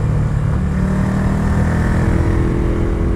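A Ducati motorcycle rumbles past close by, a loud, steady low engine drone that holds throughout with no one speaking.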